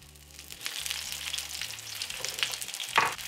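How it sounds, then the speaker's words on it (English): Shallots laid cut side down into hot oil in a sauté pan, giving a steady, close sizzle and crackle throughout with a brighter pop near the end, no voices. "Into the pan, carefully lay the shallots, the ones that are cut side down."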